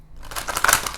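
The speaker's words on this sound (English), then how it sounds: "I'm a pro at shuffling these" A deck of tarot cards is shuffled close up in one quick, crisp riffle of papery card flutter lasting about a second.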